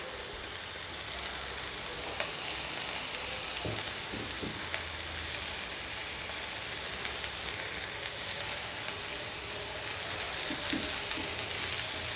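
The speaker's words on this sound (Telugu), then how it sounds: "జస్ట్ ఒక 1 to 2 minutes ఫ్రై చేసుకోవాలండి, అంతే." Vegetables for a veg frankie filling frying in a pan, producing a continuous loud sizzle and hiss with occasional stirring scrapes, no voices present.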